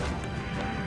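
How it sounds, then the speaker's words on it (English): A decoy destroyed in the video game Guns Up: one short crashing smash, loud and dense, with a muffled impact lasting under a second and no talk. "Oh, they destroyed my decoy."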